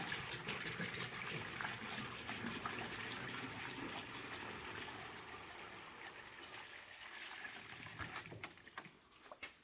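Water poured into the radiator of a 1949 Chevy 3100 pickup, a steady, close gushing and filling sound that fades slightly partway through, with a few clinks and splashes near the end.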